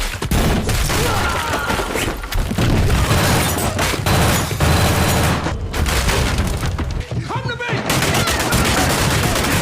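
Dense, loud movie gunfire with bursts of automatic weapons and booming shots, close and continuous, as hundreds of bullets fly during a firefight around a hut in the action film Havoc.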